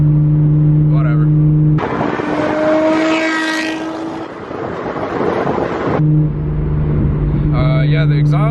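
A Nissan GT-R R32 fitted with a Tomei exhaust drives past, a loud roaring engine and exhaust note that swells for several seconds over a steady idle-like drone, with faint voices at the edges.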